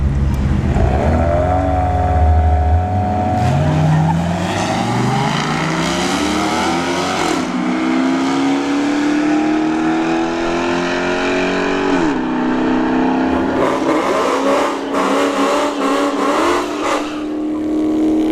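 A Chevrolet Malibu and a Dodge Charger SRT8 launch side by side at a drag strip, engines roaring loudly and climbing through several gear changes before fading as they pull away, with crowd noise behind.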